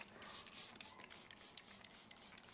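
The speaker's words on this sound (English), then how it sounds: "So I'm just spraying this everywhere to lock everything in." Makeup setting spray mists onto a face in a series of soft, rapid hissing bursts, close to the microphone and quiet.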